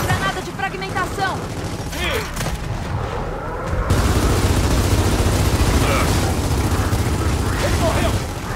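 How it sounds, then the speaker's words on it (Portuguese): A fragmentation grenade thrown and detonating in Gears of War 4, a sustained booming, crackling blast with rumbling gunfire that grows louder partway through, while a player voice talks over the early part of the action. "Lançando granada de fragmentação!"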